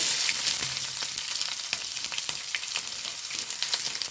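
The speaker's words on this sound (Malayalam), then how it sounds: "അരിഞ്ഞ് വെച്ച് ഉള്ളിയാണ് ഇട്ട് കൊടുക്കുന്നത്" Chopped onion frying in a pan of hot oil for okra thoran, a dense, loud hissing sizzle with scattered crackles and light stirring taps, close up and continuous, no voices.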